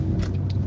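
A car driving slowly through a turn while braking gives a steady, low engine and road rumble heard from inside the cabin, with no voices.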